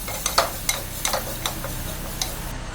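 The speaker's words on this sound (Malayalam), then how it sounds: "ഇതൊന്ന് ട്രാൻസ്പെറൻ്റ് ആയിട്ട് വരുന്നവരെ നമുക്ക് വഴറ്റി കൊടുക്കാം." Shallots sauté in a pan for a curry, giving a soft steady sizzle broken by several sharp ticks and scrapes as a utensil stirs them, close by and with no one talking.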